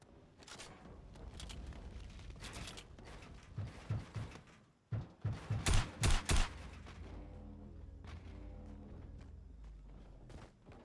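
Shotgun fire in the video game Fortnite, with several loud, close blasts in quick succession midway through, set against quieter game noise before and after.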